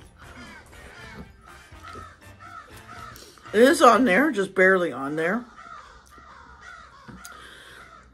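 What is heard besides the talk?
crow cawing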